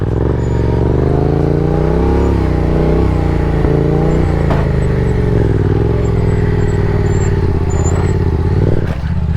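A Yamaha FZ07 stunt motorcycle engine runs loud and close, its pitch rising and falling as the throttle is worked, with a continuous drone throughout.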